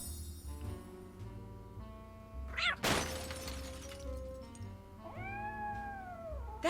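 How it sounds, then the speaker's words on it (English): Cat meowing in a Nancy Drew video game, a short rising-and-falling meow near the end over steady game background music, preceded by a sharp crash. "That's the cat Molly wants me to catch"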